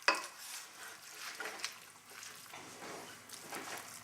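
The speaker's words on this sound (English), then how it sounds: "So I'm stirring in our eggs and cheese" A spoon stirring eggs and cheese into a casserole mixture in a home kitchen, giving soft, continuous wet scraping and light clinks against the bowl, fairly quiet and with no talking.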